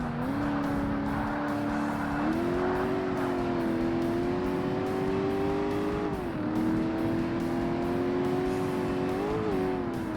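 A car engine in the 2005 Xbox game Forza Motorsport during a classic sports car championship event, droning at high steady revs and bouncing repeatedly against the rev limiter with a rapid stuttering pulse, loud and close with no talk.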